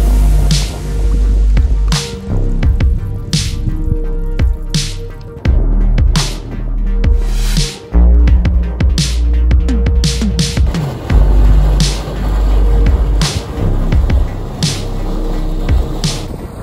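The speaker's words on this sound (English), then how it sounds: "everything in this place is boiling and bubbling." Sulfurous mud pools and gas vents at the Caldara di Manziana bubble and boil, giving loud, close, continuous wet gurgling and splashing broken by repeated sharp bursts and pops.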